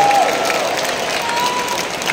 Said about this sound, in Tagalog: yung malakas na palakpak sa pag-ibig.